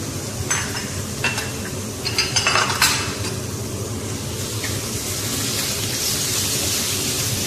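Chicken pieces frying with garlic in a hot pan, a steady broadband sizzle with a few stirring and utensil scrapes early on, close and fairly loud with no talking.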